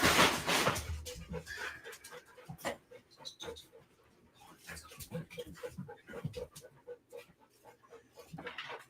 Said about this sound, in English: Nothing like 5 dogs running in and knocking your camera all over the place